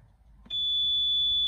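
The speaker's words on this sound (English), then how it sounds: "after about 30 seconds and with the oil light on, you will hear a loud beep." A Porsche 914 running an aftermarket ECU sounds a single loud, steady high-pitched warning beep tied to its oil pressure light, starting abruptly and holding continuously alone in a quiet room.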